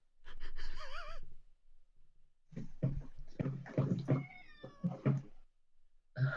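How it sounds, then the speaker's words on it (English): A cat meows in a rising, wavering call near the microphone, followed by a second stretch of drawn-out meowing and caterwauling with breathy sounds, in a quiet indoor room. "Whose cat is that?"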